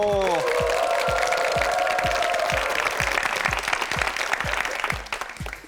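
Studio audience at the KBS Korean word quiz show 우리말 겨루기 breaks into steady, dense applause that holds for several seconds, with a steady low thumping underneath and a host's voice briefly at the start.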